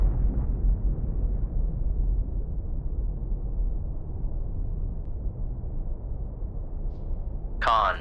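A torpedo detonates against a submarine in the naval warfare game Cold Waters, a sustained deep low rumble rolling for several seconds, ending with a brief higher-pitched burst.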